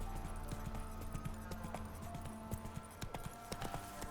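Horse hooves clip-clop in The Witcher 3 video game, a quick, steady rhythm of moderately loud thuds moving along over a soft background hum.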